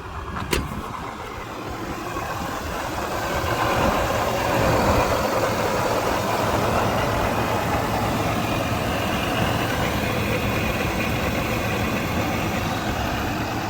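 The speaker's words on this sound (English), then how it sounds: "See, that's a Toyota. Starts every single time." A supercharged third-generation Toyota 4Runner engine turns over and catches, then settles into a steady, loud, close idle with a low rumble that continues unbroken to the end.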